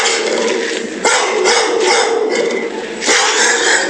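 Guard dogs barking at a tightly guarded compound, loud repeated barks close by, with short breaks between bursts.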